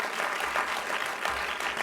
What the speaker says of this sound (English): So give them a collective round of applause.